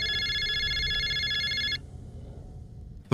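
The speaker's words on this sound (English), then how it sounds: "phone rang again." A telephone rings with a bright, trilling electronic bell for under two seconds, then cuts off into quiet room tone.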